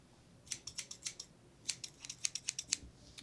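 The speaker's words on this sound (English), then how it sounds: "We have scissors out." Scissors cut off curly 3C/4A natural hair in a big chop, giving about a dozen crisp close snips in two quick bursts with a short pause between, quiet and with no talking.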